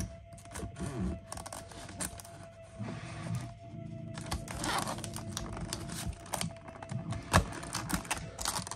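Scissors or a blade working along the seam of a G.I. Joe Super 7 ReAction B.A.T. action figure's blister card packaging, a close run of small clicking cuts and crinkling plastic with one sharper snap near the end.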